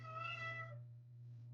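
A hairless cat gives a single clear meow, close and fairly faint, tapering off after under a second over a low steady hum.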